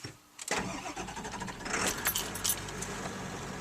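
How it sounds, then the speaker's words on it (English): Keys jingle, then a 2000 7.3 Powerstroke truck engine cranks and catches after a fuel filter change, settling into a steady idle that runs on close by. "Truck starts."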